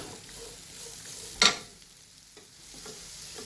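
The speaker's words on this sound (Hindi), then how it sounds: "मैं थोड़ा सा सौते करूँगी" Cabbage and capsicum sautéed in a pan for egg fried rice, a quiet steady sizzle with one short sharp clatter of stirring midway, no talk.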